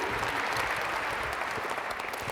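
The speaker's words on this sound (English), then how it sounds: "Can we have a round of applause for Naomi," A brief, steady round of audience applause for Naomi at a robot show in Edinburgh, dense clapping from a full room that holds even for about two seconds with no talk.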